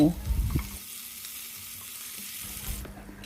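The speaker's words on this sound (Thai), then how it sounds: "ตั้งกระทะใส่น้ำมันเล็กน้อยตามด้วยกระเทียมและพริกขี้หนู" Close, steady sizzling of garlic and bird's eye chilies frying in a little hot oil in a pan, with a brief stirring clatter at the start.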